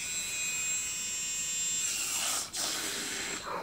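Electric milk frother whirring steadily as it heats milk, a loud continuous high buzz that holds evenly and then sputters briefly near the end, with no talking.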